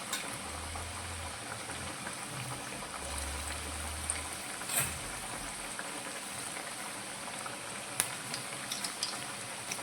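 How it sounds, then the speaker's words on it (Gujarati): Steady bubbling and sizzling of millet vadas deep frying in hot oil, a continuous crackle throughout with a few soft low thumps and one sharp click. "હવે વડાને આપણે થોડી વાર માટે આ રીતે તળાવા દઈશું"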